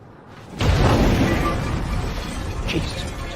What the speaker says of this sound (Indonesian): mobil gubernur penjara meledak